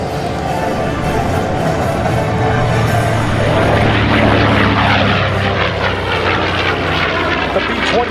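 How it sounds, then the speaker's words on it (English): A North American B-25 Mitchell bomber flies an airshow demonstration, its twin piston engines and propellers roaring loud and continuous as it climbs, with the pitch slowly shifting as it passes. "The B-25 is gaining altitude so it can safely bomb."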